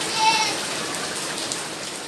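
Rain falls steadily on an outdoor ornamental fish pond, a constant hiss of drops spattering the water, moderately loud and unbroken, with a faint voice briefly audible beneath the rainfall.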